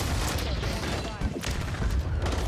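An AMR9 submachine gun fires in Call of Duty MW3 ranked play, loud rapid bursts with booming hits and mechanical clatter in a dense, close mix.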